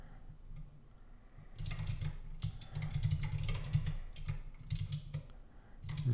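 Computer keyboard typing while writing Clojure code, bursts of quick close key clicks in uneven runs with short pauses, over a low steady hum.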